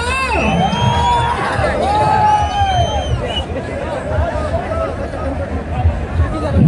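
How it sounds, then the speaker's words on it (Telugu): Loud crowd at a senior-category bull pulling contest in Kamasamudram, a close, continuous babble of shouting, whoops and cheering voices, with sharp yells rising and falling throughout. "కేకలు చప్పట్లు"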